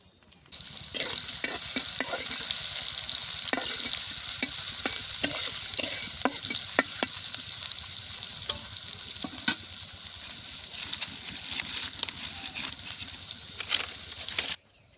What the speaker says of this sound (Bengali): রসুন আর পেঁয়াজ একটু ভাজা হয়ে গেছে